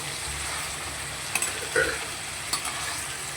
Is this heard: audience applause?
no